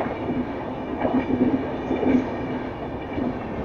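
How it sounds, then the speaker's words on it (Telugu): Train rolling past a closed railway level-crossing gate, heard as a steady mid-distance rumble of rail wagons with faint rhythmic clatter and a sustained low hum, no talk. "దగ్గర దాకా వచ్చినాక గేడ్ పడ్డది, ట్రైన్ పోతుందో వచ్చి"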